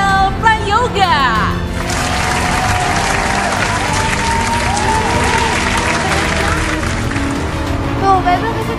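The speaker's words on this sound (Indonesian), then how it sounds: "Bible bisa tepuk tangan sayang." Loud, sustained applause from a crowd at a television award show, dense continuous clapping throughout, with a voice speaking over it at the start.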